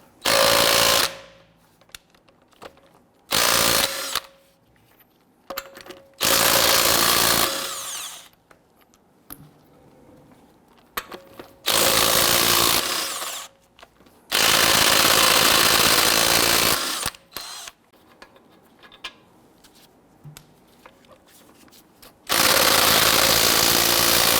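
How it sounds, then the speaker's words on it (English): An impact wrench with a 22mm socket loosens and removes lug nuts from the front wheel of a raised 2008-2017 Buick Enclave. It rattles loudly in repeated bursts of a few seconds each, separated by short pauses. "we're going to use our 22mm socket to loosen and remove our lug nuts"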